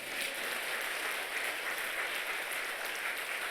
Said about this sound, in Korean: 우리 하나님께 박수합시다